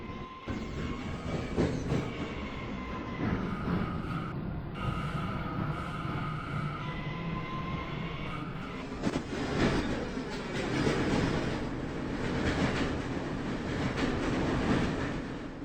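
A Bronx-bound New York subway D express train rolling along the tracks, a steady rumble of wheels and car noise with tonal whine and occasional clatter, fairly close and continuous with no voices.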